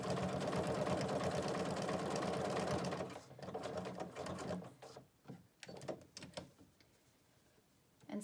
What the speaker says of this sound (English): And then I just start to sew it through all the layers.